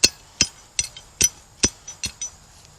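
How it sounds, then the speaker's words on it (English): A hammer pounds into dirt to dig a hole for a trap chain, striking seven times in a steady rhythm of sharp, close thuds with a slight metallic ring and no talking. "take your hammer, kind of pound you a little hole right there"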